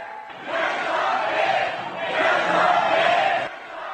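Crowd cheering for a skeleton sled racer at the start, a loud swelling roar of many voices that rises, dips briefly, and rises again before cutting off.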